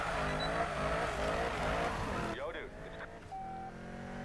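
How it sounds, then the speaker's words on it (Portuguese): A yellow Corvette in Need for Speed 2015 roars and drifts with squealing tires over a loud engine note, then the engine noise drops off abruptly and a quieter stretch follows. "Vamos mandar aquele drift aqui"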